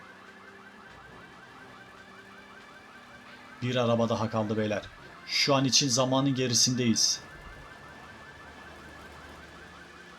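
Car alarm in the video game Grand Theft Auto 3, blaring in two loud warbling bursts over a steady engine drone, with someone talking over the game sound.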